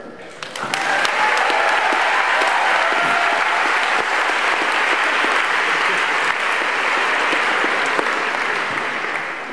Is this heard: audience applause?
yes